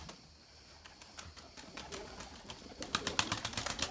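Erzurum white pigeons in their coop coo softly and close by, with a burst of louder fluttering and scuffling toward the end.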